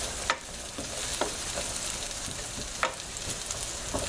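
Diced red potato frying in a pan over low heat, a steady close sizzle with a few sharp stirring clicks and scrapes, no talk.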